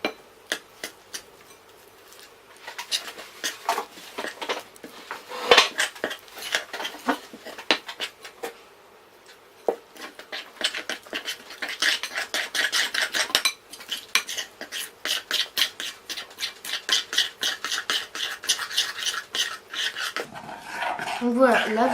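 Pancake batter is whisked with milk in a bowl: quick, close clinking and tapping of a utensil against the bowl, irregular at first, then a denser, faster rhythm, briefly pausing near the end.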